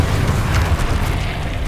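A spell impact in the video game Hogwarts Legacy lands as a loud, deep boom with a rumbling burst that fills the short moment, with no speech.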